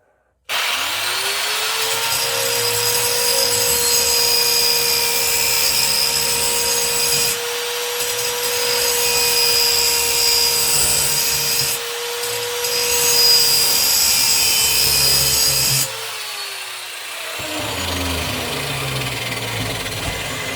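A bench grinder or power tool levels a Mountfield SP536 lawnmower blade, a loud, steady high-pitched whine grinding continuously for about fifteen seconds with brief dips, then spinning down toward the end.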